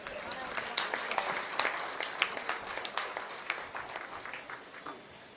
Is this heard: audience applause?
yes